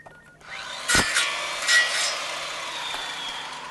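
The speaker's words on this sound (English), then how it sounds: "Saw." A saw cutting, sounding as a sound effect in a carpet-replacement advertisement aired during a 2014 high school football broadcast: two quick rasping strokes close by, followed by a fading scrape.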